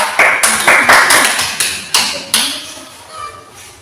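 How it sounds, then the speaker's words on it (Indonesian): Students in a classroom clap for a presenting group, a handful of sharp, separate hand claps landing in uneven bursts, fairly close and loud, then fading out. "tepuk tangan untuk kelompok 2"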